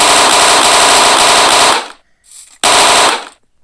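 Loud, close bursts of rapid automatic gunfire from a 3D gun mod in a video game: one long continuous burst, a brief pause with a faint mechanical click, then a second shorter burst that cuts off.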